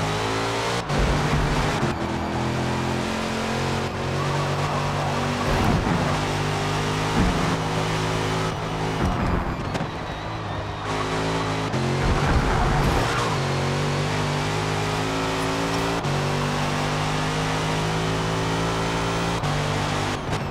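Corvette C7 race car engine in the Forza racing game, a loud continuous roar with gear shifts and revs rising and dropping through corners, sustained throughout.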